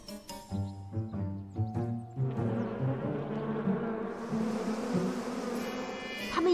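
Cartoon bees buzz in a steady, close, continuous drone that rises and thickens midway, with short tonal musical notes at the start and no talking.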